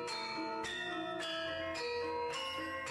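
Javanese gamelan gong suwuan struck repeatedly at a steady pace, each ringing bronze stroke overlapping the lingering hum of the previous ones, loud and close with no voices.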